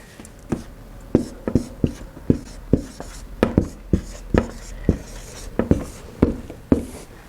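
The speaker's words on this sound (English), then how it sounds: "I'm going to write how long" Marker or chalk writing words on a board, a run of quick sharp taps and strokes in irregular rhythm, close and fairly loud, with no talk.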